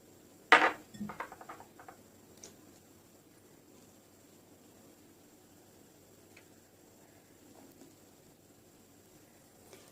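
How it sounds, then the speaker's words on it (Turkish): Eggs, oil and milk for pancake batter are mixed in a bowl: a short burst of clinking utensil-on-bowl strokes at the start, then near silence with only faint room noise. "Şimdi içine sıvı yağımı, sütümü ilave ediyorum ve tekrar karıştırıyorum."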